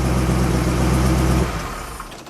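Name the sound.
1968 Mustang Shelby GT500KR 428 Cobra Jet engine revving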